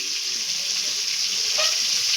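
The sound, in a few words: fish frying in a wok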